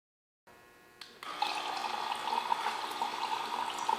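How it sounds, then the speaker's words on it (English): A simple USB-powered 12-volt faucet fed from a gallon water jug starts up, then runs a steady, gentle stream of water splashing into a basin, close by and quiet. "and we get running water."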